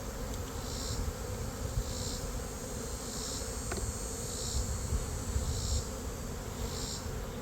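Honey bees buzz in a thick, continuous drone up close at an opened hive during a varroa mite check, overlaid by regular faint chirping insects pulsing about once a second.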